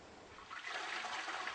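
A toilet flushes, water rushing and swirling steadily, close and fairly loud, with no voices.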